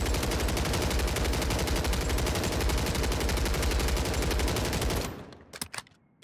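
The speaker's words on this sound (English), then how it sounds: "This is the DG58. This is going to be our recoil test here." DG58 assault rifle firing a long sustained automatic burst during a recoil test in Call of Duty Warzone, loud and continuous for about five seconds before stopping, followed by a few faint clicks and thumps.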